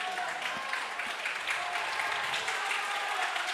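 Football fans clapping in the stands at a Singapore Premier League match, Albirex Niigata versus Hougang United, a steady wash of applause that fills the stadium without any spoken voices.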